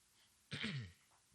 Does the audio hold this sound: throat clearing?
yes